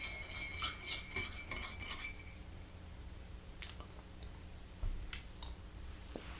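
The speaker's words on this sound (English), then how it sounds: "while I'm boringly stirring my tea" A spoon stirs a cup of tea, making light, quiet metallic clinks that cluster at first, then fall to a few scattered taps against a soft background.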